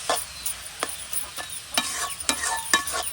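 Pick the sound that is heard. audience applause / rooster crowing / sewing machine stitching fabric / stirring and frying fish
stirring and frying fish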